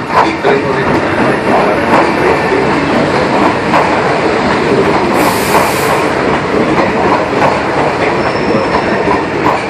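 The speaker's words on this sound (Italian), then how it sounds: "Il treno regionale 4329 di Trenitalia delle ore 12:25 proveniente da Fossano è in arrivo al binario 2." A Trenitalia Jazz regional train pulls into Limone Piemonte station, its steady loud rumble and rolling wheels filling the platform throughout, with a brief hiss of air or brakes midway.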